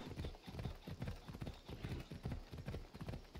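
A horse in Assassin's Creed Odyssey gallops with quick, evenly spaced hoofbeats, close and steady for a few seconds, alone without any voices.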